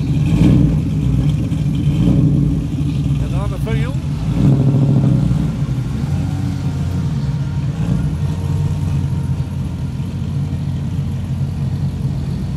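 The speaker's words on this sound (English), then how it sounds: "Well, this one's got a V8 in it." A 5-litre V8 car engine rumbles at an outdoor night car meet, with a low, steady throb and a couple of swells in level, set against the murmur of the surrounding crowd.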